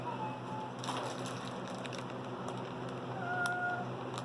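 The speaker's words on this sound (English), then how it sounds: "And please forgive the cat talking." A house cat meows a few times nearby in a quiet room, with its voice standing alone and no speech over it.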